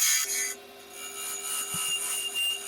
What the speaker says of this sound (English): start by hollowing out the upper half of the globe